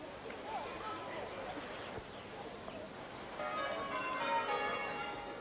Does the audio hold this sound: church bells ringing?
yes